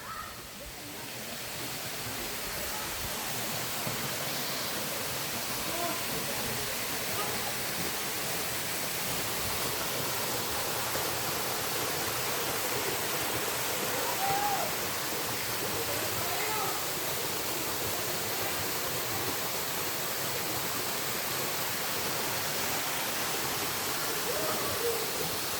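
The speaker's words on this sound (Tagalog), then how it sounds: "Kuhaan mo nga yung bagsak ng tubig ng boy." Water pours steadily down Bantakay Falls, a loud, constant broadband rush that holds unbroken for the whole stretch, with no clear voices above it.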